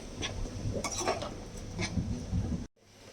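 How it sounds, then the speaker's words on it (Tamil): Onions and tomatoes for egg thokku sautéing in a pan, with scraping and clinking of a spoon stirring against the metal over a soft background sizzle, then a brief cut near the end. "வெங்காயம் தக்காளி நல்லா வதங்கிருச்சு."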